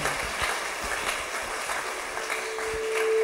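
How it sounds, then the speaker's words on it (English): A church congregation claps steadily throughout, a dense even patter of many hands with a faint tone rising near the end. "Shall we give the Lord a clap"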